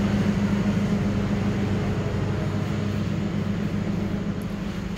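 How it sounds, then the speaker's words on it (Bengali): A train stands at a station as passengers board, heard as a steady loud low engine drone and rumble that fills the whole stretch without pause. "এই তো এখন ট্রেনে উঠতেছি"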